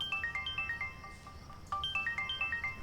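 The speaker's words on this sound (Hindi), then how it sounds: "फिर मुझे एक फोन की घंटी सुनाई दी" A phone ringtone sounds in a film scene inside an empty, under-construction mall: a bright repeating electronic melody plays twice in short bursts, fairly loud over a low background hum, with no talk.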